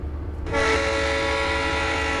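Locomotive horn blast in Train Simulator 2016 on Donner Pass from an SP F7 diesel: a sudden loud, sustained chord with strong harmonic tones that starts abruptly and holds steadily to the end.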